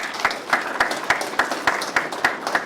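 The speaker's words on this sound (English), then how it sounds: "Round of applause for anybody that is in there." Sparse, steady clapping comes from a small audience at the kickoff of a business training session, with evenly spaced claps repeating about every quarter second and a light wash of hands beneath them.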